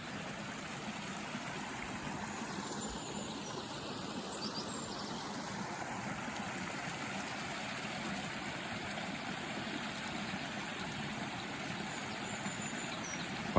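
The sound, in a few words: River Kinder flowing near camp, Peak District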